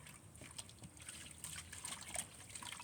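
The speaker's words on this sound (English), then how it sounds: "Now this is fresh water down here that I literally have already, I'm in the process of rinsing the salt off." Harvested kale being rinsed in fresh water to wash off salt, with soft trickling, dripping and light splashing throughout, quiet and close, with no talk.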